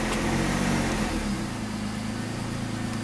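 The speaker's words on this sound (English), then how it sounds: "That's the first time I've revved it up that high." A supercharged BMW E36 328i engine held at high revs, droning loudly, then the pitch eases down toward a lower steady idle; no voices.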